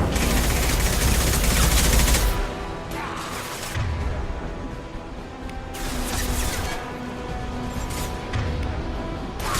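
Shotgun gunfire in the Mass Effect 2 video game: loud booming blasts and crashing bursts that fill the clip, with a few distinct heavy shots and echoing impacts in an intense combat scene.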